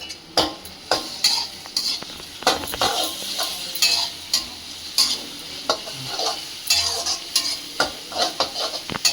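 Garlic paste fries in a pan while a utensil stirs it, giving a loud, close sizzle broken by repeated scraping and clinking strokes in an uneven rhythm.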